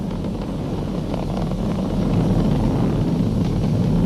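A Falcon 9 rocket climbs during ascent with its Merlin 1D engines throttled down ahead of maximum dynamic pressure, a loud, continuous, low rumbling roar that stays steady and heavy throughout, with no talk.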